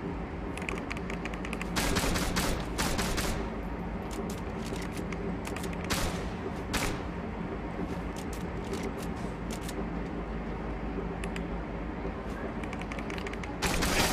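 Rapid gunfire crackles in the online shooter Zula, with sharp repeated shots and short bursts scattered over a dense, constant background of game noise.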